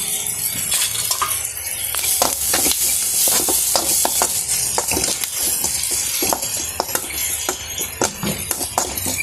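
Mutton suvarotti fries in a pan, a continuous loud sizzle broken by repeated scraping and stirring strokes of a spatula, close and busy throughout with no voices.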